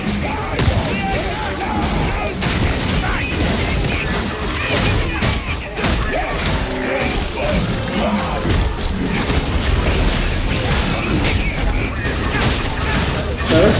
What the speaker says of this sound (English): I got explosions going off in my face.